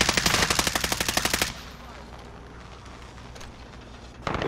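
Rapid automatic gunfire in a video game, a fast regular burst of loud, close shots lasting about a second and a half, then a quieter stretch of game ambience before another burst starts at the end.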